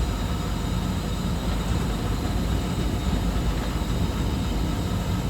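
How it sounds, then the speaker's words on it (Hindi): Train locomotive approaching on the track on the Rawalpindi to Lahore line in Pakistan, a steady broad rumble and rushing roar that stays loud and constant throughout, without voices. "लाइट्स आपको नज़र आ रही हैं सामने ट्रैक पे लोकोमोटिव"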